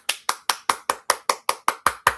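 A steady run of about eleven close, crisp hand claps at an even, brisk pace, in the style of a light golf clap, sounding alone with no talk.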